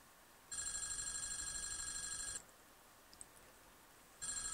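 A telephone rings in the video game Five Nights at Wario's. There is a long electronic ring burst, then a pause, then another ring starts. The sound is faint and heard alone.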